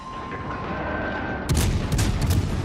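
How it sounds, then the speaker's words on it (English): La Galissonniere cruiser guns fire in the World of Warships naval game, a sudden loud salvo of booms followed by several further blasts in quick succession over a steady engine hum. "Get those guns firing just a little bit further behind."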